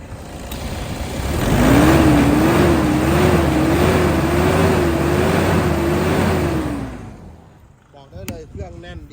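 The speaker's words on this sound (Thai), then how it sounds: "เห็นไหมครับฟังเสียงเครื่องยนต์" A Toyota Vigo 2.5 G pickup's diesel engine revs up steadily with a rising, sustained drone, holds high for several seconds, then winds down, with a few brief sounds after.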